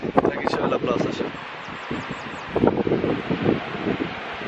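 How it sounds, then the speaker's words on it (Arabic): Strong wind buffets the microphone at an outdoor digital art event in Tangier, a constant loud rumbling roar with rustling gusts while someone talks over it. "دابا كاين الريح بزاف ما عرفتش واش تسمعوا الصوت ديالي ولا لا"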